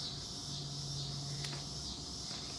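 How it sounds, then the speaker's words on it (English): Cicadas buzz steadily in a natural outdoor setting, a continuous high-pitched drone filling the background at moderate loudness, with a brief sharper click partway through. "Listen to the cicadas."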